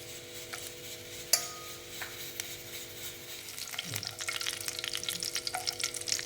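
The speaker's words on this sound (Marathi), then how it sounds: "तेल थोडंसं तापलं की त्याच्यात आपण हिरवी वेलची टाकूया चक्री फुल टाकूया मसाला वेलची टाकूया" Whole spices, green cardamom, star anise and black cardamom, frying in hot oil in a pan: a steady close sizzle that grows denser and crackly toward the end, with a couple of faint clinks and no talking.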